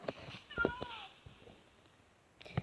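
Several tamed cats in Minecraft meow in short high calls, some close together and one alone near the end, with a voice speaking over part of it.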